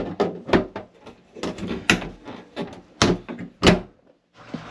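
A small storage door on a Merry Fisher 1095 flybridge boat is worked open, giving a series of close, sharp clunks and knocks from its two catches, irregularly spaced over several seconds with no talking.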